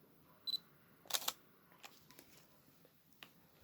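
An Olympus OM-D E-M mirrorless camera shutter fires once, a quick, crisp mechanical click-clack close to the mic in a quiet room, followed by faint handling ticks.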